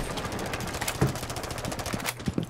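Rapid bursts of automatic gunfire fired through a wall in the tactical shooter Rainbow Six Siege, a steady crackling volley of shots with a few louder cracks near the end.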